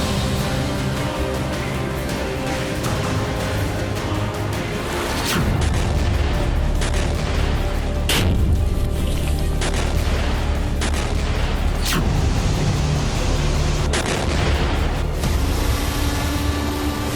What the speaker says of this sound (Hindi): ताइवान के बहाने अमेरिका से जारी तनातनी के बीच चीन के नए बारूदी परीक्षण का प्रमाण है